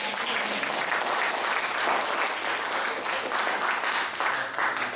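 Church congregation applauding during a Mother's Day service, a dense, steady clapping that fills the room for several seconds without pause.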